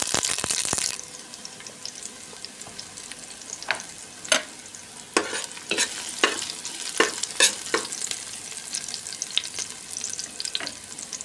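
Garlic sautés in a pan for cabbage with leftover chicken adobo, a soft ongoing sizzle broken by sharp scraping and clattering stir strokes, close by, with a splash of running water at the start and no voices.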